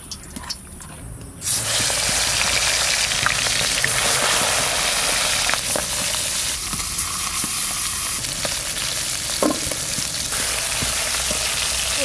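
Tangra fish coated in oil dropped into hot mustard oil, bursting into a loud, steady hiss after a quiet start, with occasional crackles and a utensil clink.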